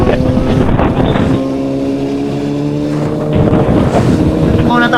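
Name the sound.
motorcycle engine pulling out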